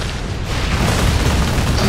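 A grenade explodes in Warhammer Space Marine, a loud, close, dense rumbling boom that fills the whole moment with low roar and no voices over it.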